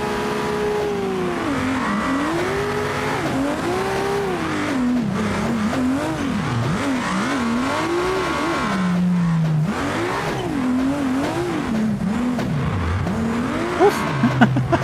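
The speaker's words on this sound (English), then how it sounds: "I really like this engine. I'm not gonna lie. It sounds good." An engine in the BeamNG driving game revs repeatedly, the pitch rising and falling in swooping waves as gears shift, loud and continuous throughout, with faint tire noise near the end.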